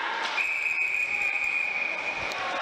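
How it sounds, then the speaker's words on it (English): A referee's whistle sounds during a high school boys' ice hockey game, one long steady blast lasting about two seconds over crowd and arena noise. "They got a whistle here, Chris."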